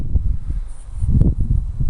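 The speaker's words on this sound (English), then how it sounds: "Bit windy today" Wind gusts across a freshly ploughed farm field, a rough, buffeting rumble with microphone wind noise and faint rustling, steady and close throughout with no talking.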